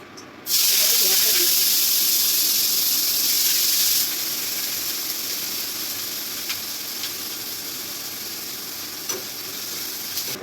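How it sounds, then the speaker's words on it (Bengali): Cumin seeds fried in hot oil burst into a loud, hissing sizzle that is sharpest in the first few seconds, then settles into a steady, slightly softer frying hiss with occasional faint clicks. "ভাজা হয়ে যাচ্ছে"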